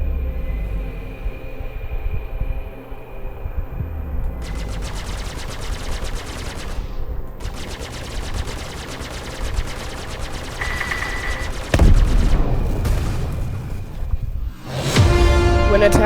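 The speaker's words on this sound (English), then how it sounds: "the firing rate on the sniper rifle, you know, considering it's a sniper rifle," A sniper rifle in Star Citizen fires in loud, rapid bursts, rattling off in long strings of shots separated by brief pauses, with a heavier blast near the end.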